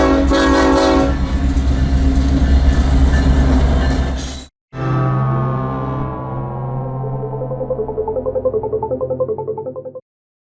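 Heavy Ferromex unit freight train of over 10,000 tons with multiple locomotives rolling past near Torreón, Mexico, with loud rumbling wheels and blaring horn blasts that drop out briefly, then return as a sustained tonal horn over the clatter.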